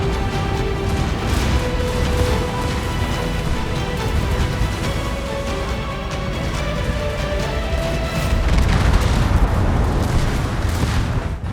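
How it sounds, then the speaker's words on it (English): Heavy naval gunfire in World of Warships booms continuously over a dense rumbling battle din, loud and sustained throughout, with no voices. "Hipper as he had to abandon his flagship, closed to within 4 kilometers of the Grand Fleet and exchanged heavy gunfire."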